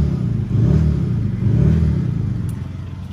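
Revving of a 2014 Volkswagen Golf GTD diesel engine: two short throttle blips rise and fall over a steady idle, loud and close, with no talking.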